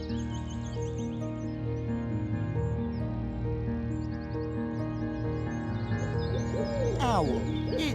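An owl hoots repeatedly in a steady, low, rhythmic series, clear and prominent against a continuous backdrop of other chirping and calling sounds.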